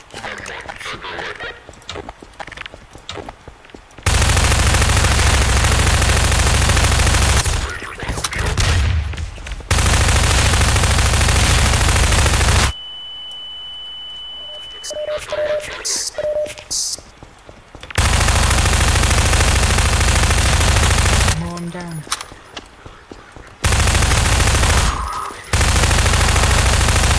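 Gunfire in Garry's Mod, long loud bursts of automatic shooting broken by quieter gaps with scattered shots and other game noises.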